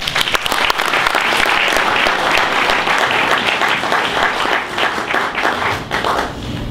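A church congregation applauds loudly and continuously, dense clapping that fades slightly toward the end, with a brief voice heard near the close.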